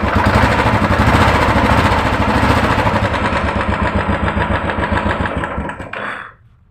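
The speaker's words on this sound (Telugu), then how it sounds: "బండి కూడా స్టార్ట్ అయిపోయింది" A Royal Enfield Bullet motorcycle engine runs just after starting, a close, loud, evenly thumping beat that holds steady, then thins and cuts off abruptly, leaving quiet.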